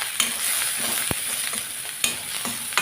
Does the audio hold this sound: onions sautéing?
yes